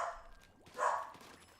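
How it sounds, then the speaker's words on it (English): A dog barks in a few short bursts, faint and somewhat distant, over quiet background noise from a game session. "the pupper is barking up a storm"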